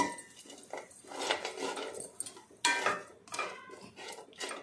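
Tamarind slowly roasted in a pan on low heat, stirred with a utensil that scrapes and clanks against the metal in irregular bursts, close and moderately loud.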